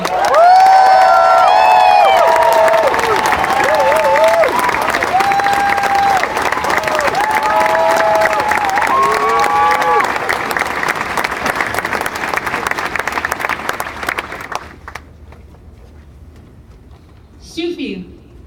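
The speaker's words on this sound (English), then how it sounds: "let's give them another massive round of applause" A large crowd gives a massive round of applause for an immigration and security team, loud sustained clapping mixed with whoops and cheers, voices ringing over it before the ovation fades out near the end.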